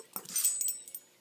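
A dog whimpers close by in a few brief, high, thin whines spread over about a second, with no voices over it.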